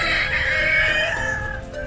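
Caged roosters at a temple in Bali, where cockfighting is popular, crow loudly and continuously, a strained drawn-out call filling the whole moment with farmyard clucking beneath.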